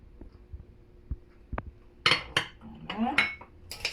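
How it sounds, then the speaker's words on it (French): A kilo of couscous with salt and a little oil is stirred in a pot by hand, giving intermittent scraping and light clinking strokes against the metal, close and fairly quiet with pauses between movements. "je remue un petit peu comme ça"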